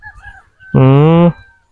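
A single rooster crows once, loud and close, a sustained clear crow of about half a second following faint low background rumble.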